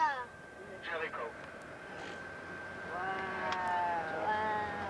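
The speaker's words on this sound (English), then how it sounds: "You see the goats?" Goats bleat at a Bedouin goat shed in hot desert country near Jericho, a few wavering, nasal calls at moderate distance, one early and a longer cluster later, over quiet outdoor background with some faint voices.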